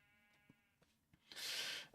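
A sheep in the video game Minecraft gives a faint, thin bleat early on, followed by a brief soft rustling burst near the end.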